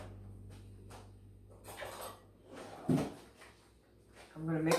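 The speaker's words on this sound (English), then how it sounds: "Now, I'm going to get another spoon." Kitchen drawer rattles open and metal cutlery clinks as a spoon is fetched, a few short knocks and clatters close by, with a louder bump near the end and faint background sounds.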